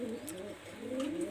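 Pakistani high-flyer Teddy pigeons coo in soft, warbling rolling calls close by, with faint background noise and no talk.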